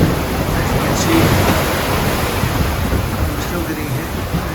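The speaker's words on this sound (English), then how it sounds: "But the waves are still pretty large, as you can see." Large waves and strong wind around a sailboat at sea, a steady broadband rush of surf and gusting wind buffeting the microphone, loud and continuous with no clear breaks.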